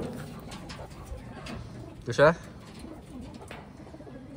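Newly arrived pigeons from Taiwan give one short, close coo amid quiet rustling, while someone speaks briefly nearby.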